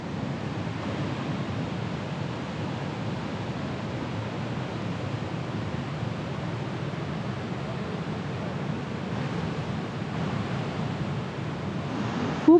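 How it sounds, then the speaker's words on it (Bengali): Heavy rain pouring during a mountain trek in Nepal on the Annapurna Base Camp route, a dense, steady roar of rainfall with wind-like noise, continuous and loud with no break. "খুব জোর বৃষ্টি হচ্ছে"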